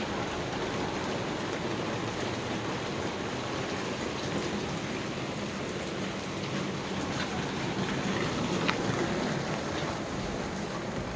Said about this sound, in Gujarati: અહીંયા તો વરસાદ ચાલુ થઈ ગયો